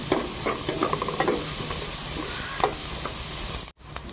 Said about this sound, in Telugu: ఉల్లికాయలు బాగా కలర్ వచ్చే వరకు వేసుకున్నాం